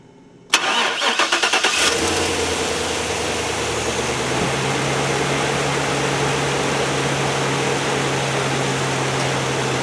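Car engine cranks for about a second and then catches, boosted by a BUTURE portable jump starter, and settles into a steady, close idle that runs to the end.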